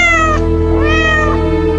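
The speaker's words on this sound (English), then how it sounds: "That's my cat." A domestic cat meows twice in a row, loud and close, the two drawn-out, tonal cries separated by a short gap over a steady low background hum.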